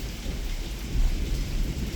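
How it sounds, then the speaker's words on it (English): Thunder rumbles low and heavy through a storm, layered over steady rain pattering on surfaces, a continuous dense roar with a swell in the middle and no talk. "I'm sure you guys can hear that thunder out there"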